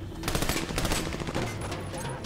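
Automatic gunfire in Army of Two: The Devil's Cartel, a loud close burst of rapid shots rattling on for a couple of seconds, with faint voices beneath.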